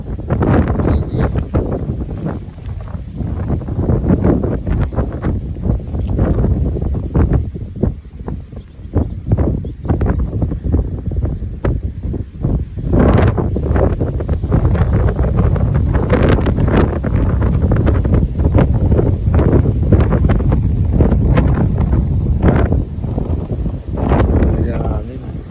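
Strong wind buffets the microphone in loud, continuous gusts and rumbles outdoors on a super windy day, with people talking intermittently beneath the roar.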